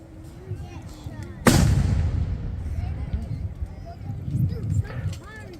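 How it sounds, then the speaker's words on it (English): Musket volley in a battle re-enactment, with volunteers firing flintlocks on an advancing British column of the 14th Regiment of Foot: one loud, sharp crack of massed shots rolls into a long rumbling echo, over a murmur of outdoor crowd and voices. "begin to fire on the advanced British column of the 14th Regiment of Foot"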